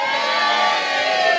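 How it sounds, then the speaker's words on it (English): A studio audience cheers loudly all together, a sustained dense roar of high-pitched voices, close and continuous for the whole moment. "Give us a cheer."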